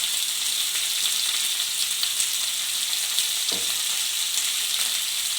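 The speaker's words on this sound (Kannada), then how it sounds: "ಹಾಕಿ ಹಾಗೆ ಸ್ವಲ್ಪ ಫ್ರೈ ಮಾಡಿ" Vegetables with beans fry in a pan for sambar, a dense, even sizzle holding steady throughout, near and loud, with one faint knock partway through.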